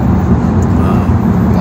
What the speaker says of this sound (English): the sound of the cars, it's enclosed inside the tunnel and it's very noisy